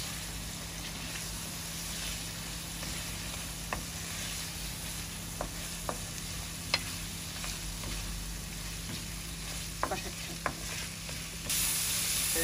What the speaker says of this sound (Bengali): আলু দিয়ে কষাবো